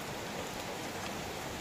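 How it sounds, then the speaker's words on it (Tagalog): Heavy rain pours onto the roof of an old duck pen, a dense, steady hiss of drops that fills the space without pause and with no voices. "Lakas ng ulan"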